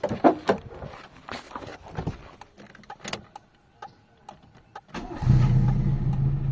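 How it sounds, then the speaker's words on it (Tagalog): A Toyota Corolla 2E engine with a low-power fault cranks and fires up near the end, following a stretch of clicks and handling noises, then settles into a close, steady running rumble. "So paandarin ulit natin yung makina mga boss. Ayan. Start natin yung engine."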